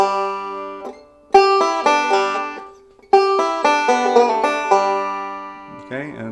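Banjo picks a bluegrass fill-in lick, two bright rolling phrases of quick plucked notes separated by short pauses, close and clear.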